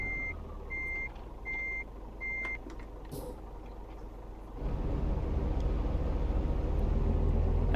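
Reversing beeps from a truck in Euro Truck Simulator 2 sound as a steady series of four evenly spaced electronic tones, followed by a louder, continuous engine rumble as the rig backs up.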